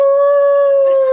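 A phone ringtone imitating a howling dog rings out loud and close, one long sustained wavering howl lasting about a second, with no talking over it.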